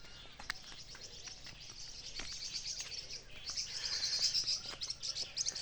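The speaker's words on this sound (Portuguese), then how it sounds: "só os cantos do passarinho," Small birds chirp and sing outdoors, with repeated high tweets and calls at moderate distance that grow denser and busier toward the end, over faint background noise.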